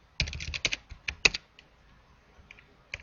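Quick bursts of keystrokes on a computer keyboard sound close and clear, as an irregular flurry of clicks, then a pause and a couple of isolated taps.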